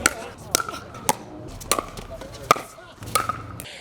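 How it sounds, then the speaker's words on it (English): Repeated crisp hollow pops of pickleball paddles hitting the ball in an outdoor court rally, about six hits at an uneven rhythm with quiet ambience between. "People who don't know pickleball think it's an annoying sound."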